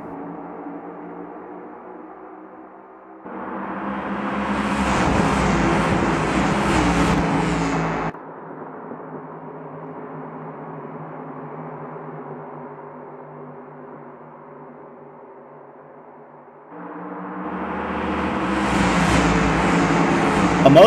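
Race cars in a racing video game roar off the start at Kansas, the engine pack swelling in two loud bursts with a steadier droning hum between them, continuous and close.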